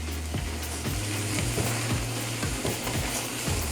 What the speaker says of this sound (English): When you're stirring like this, you really want to make sure that you don't break it up